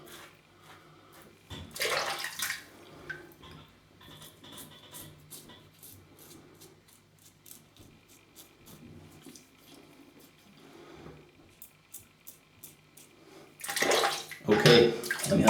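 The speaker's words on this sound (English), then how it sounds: "Okay, let me have a quick rinse." A tap runs in short bursts for rinsing after a wet shave, water splashing into a basin with quiet gaps between, louder gushes near the start and end.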